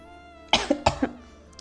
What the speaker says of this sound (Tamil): ஏய், ஏன் இப்படி உனக்கு இருமுது?